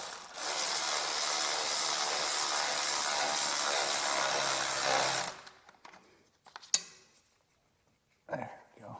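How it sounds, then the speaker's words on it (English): Rapid clicking of a ratchet tightening a bolt on a Ford Escape power steering pump, loud and close for about five seconds, then a few faint metallic clinks and knocks. "Now we can go ahead and get some tools in here and tighten those up."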